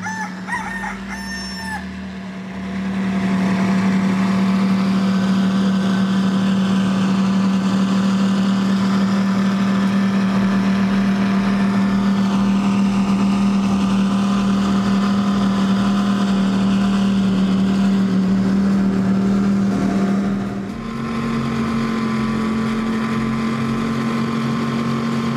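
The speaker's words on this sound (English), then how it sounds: "we've got a nice big rooster tail here along with some Mercury Racing 700s" A racing powerboat with Mercury Racing 700 engines runs at full throttle during a Poker Run event near Miami, giving a loud, sustained droning engine roar that holds steady and then shifts pitch briefly.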